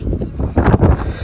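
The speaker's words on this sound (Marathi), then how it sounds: "वारा लय भारी येते" Strong gusts blowing across a rainy, foggy mountain fort trek at Prabalgad, loud rumbling buffets hitting the microphone in uneven surges.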